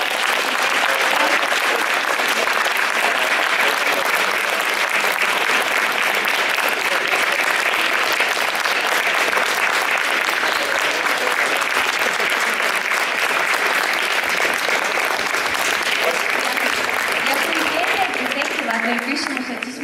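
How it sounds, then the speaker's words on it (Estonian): An audience at a fashion show applauds the models in sustained, dense clapping that stays loud and even for about twenty seconds, heard close up with no talk over it. "tahaks, et te plaksutaksite meie modellidele veel"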